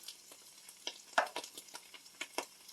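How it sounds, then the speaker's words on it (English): Flour, pepper and basil being stirred in a pan, with soft scraping strokes and light sizzling, the utensil knocking against the pan in irregular, fairly quiet bursts. "Stir that around a little bit."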